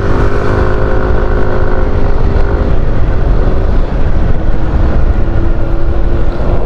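A loud, close inline-four motorcycle engine runs at high revs, a dense, steady howl with slight rises and dips in pitch throughout, no voices.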